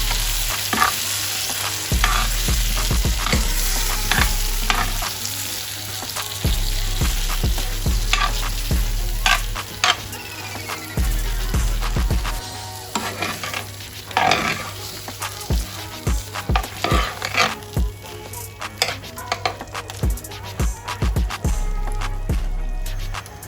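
Prawns sizzling in chilli garlic butter in a pan, a loud continuous frying hiss broken by frequent scraping stirs and clacks of a utensil, close up.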